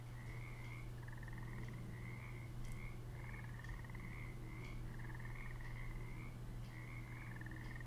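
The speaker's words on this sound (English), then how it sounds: "You can catch frogs in this game." Frogs in the fishing game Russian Fishing 4 croak in repeated rhythmic trilling bursts, one after another at a moderate distance, over a steady low hum of ambience with no talking.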